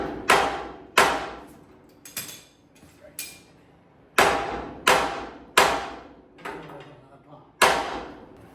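Hammer blows on a pickle fork wedged into the steering linkage of a 1970 Monte Carlo, about ten sharp metallic strikes in an uneven rhythm, close and loud, each ringing briefly before the next.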